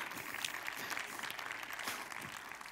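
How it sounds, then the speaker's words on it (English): A conference audience applauding after a big data talk on PySpark running on Kubernetes, a sustained burst of many hands clapping together at moderate loudness, heard alone without speech. "You are the second audience I've tricked into clapping for word count this year."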